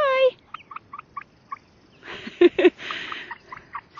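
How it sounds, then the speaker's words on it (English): A pet chicken named Peachy in a backyard coop making short, soft clucking and chirping calls, followed by a couple of louder squawks and scuffling, close by. "She's the sweetest chicken in the whole world."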